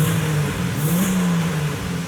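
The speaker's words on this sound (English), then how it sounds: "I love that turbo" A turbocharged Jeep Wrangler engine revs off-road with a steady mid-pitched drone that rises slightly in the middle, close and loud, with no talking.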